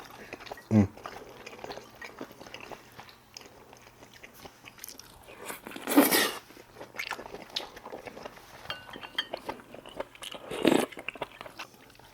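Someone eats spicy stir-fried squid up close, with a few distinct bites and chewing crunches spaced apart over soft background noise and brief speech.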